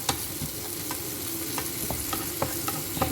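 Chilli powder being stirred into a frying mixture in a pan, a constant close sizzle punctuated by regular clicking scrapes of the spoon against the pan.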